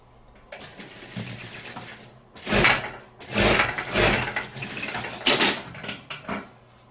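Short close bursts of a sewing machine stitching fabric for a ruffled tissue box cover, several uneven runs of fast mechanical whirring with brief pauses between them.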